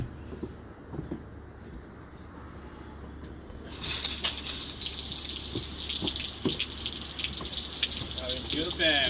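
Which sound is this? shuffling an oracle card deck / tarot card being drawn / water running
water running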